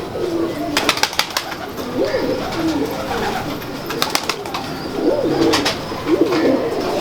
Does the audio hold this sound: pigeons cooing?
yes